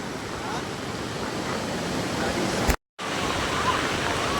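A loud, constant roar of rushing muddy water fills the scene, a broad steady wash like a torrent, with one brief cutout partway through.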